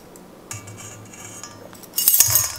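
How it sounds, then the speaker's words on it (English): Metal utensils clink and scrape against a bowl while flour, cinnamon, sugar, baking soda, salt and cloves are mixed for holiday cookies, with soft steady stirring that turns to a louder, busier burst of clattering near the end. "I'm gonna start by mixing together the dry ingredients"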